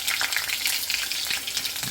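Oil spits and crackles loudly around mushrooms frying in a pan, a dense, close, continuous sizzle full of rapid popping bursts with no voices.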